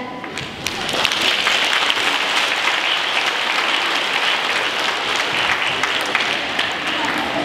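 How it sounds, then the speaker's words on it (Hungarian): An audience at a school first-grade welcoming ceremony claps steadily and loudly, a dense, even wash of applause with a few murmuring voices mixed in. "Most pedig nagy tapsal köszöntsük kedves elsőseink bemutatkozását."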